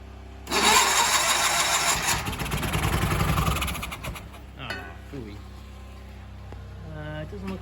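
A Sears Suburban garden tractor engine cranks and fires at half choke, a loud rough burst of running for a few seconds that then dies away, with someone talking at the end.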